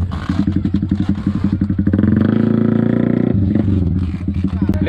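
A heavily loaded Yamaha Sniper 150 motorcycle, packed with sacks of rice for a typhoon relief ride, idles close by with a rhythmic chugging engine that revs briefly, alongside some clatter.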